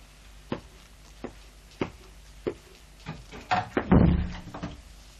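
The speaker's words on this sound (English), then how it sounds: "She told me to close the door." A door being closed in a classroom during an English lesson: a series of dull, evenly spaced thuds, then a louder cluster of knocks and a bang, heard fairly close with no talking.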